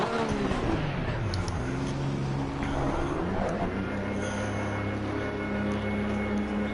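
Porsche race car engine in Assetto Corsa Competizione at Laguna Seca, a steady loud drone with harmonic lines that shift in pitch through the first seconds, then settle into a sustained hum with no talking.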